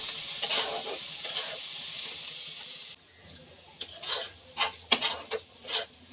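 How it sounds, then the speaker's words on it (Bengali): Winter vegetables with green chilli frying in a pan, a steady sizzle for the first half, then a spatula scraping and stirring in several distinct strokes. "এবার সবগুলোকে আবারও নেড়েচেড়ে মিশিয়ে নিচ্ছি।"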